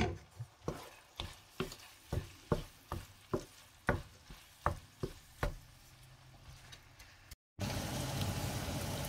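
Meat seasoned with salt and pepper stirred in a pan, a steady series of sharp scraping knocks about twice a second, followed by a short gap and a louder continuous sizzle.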